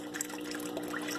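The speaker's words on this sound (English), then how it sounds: "So water is now traveling through the pipe, and it has enough pressure to make the blades spin" Pumped water flows through a pipe and spins a small turbine in a home hydraulic energy demonstration, a faint continuous trickling and gurgling with a low steady pump hum beneath.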